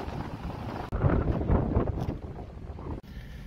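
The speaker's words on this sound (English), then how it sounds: "It's just getting a bit windy for me." Gusty wind beside a lagoon buffets the microphone in rumbling bursts, close and fluctuating, with no voices.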